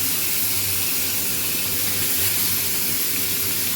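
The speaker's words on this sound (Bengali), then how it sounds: "মাছগুলোকে আমি ভেজে নিই।" Fish sizzles in hot oil in a home kitchen, a steady, loud hiss and crackle running unbroken throughout, close by and with no voices.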